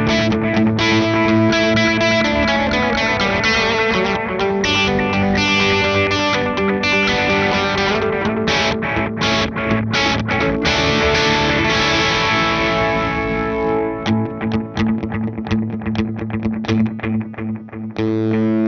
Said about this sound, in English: I've selected the analog mode, which has sort of a gritty sound on its own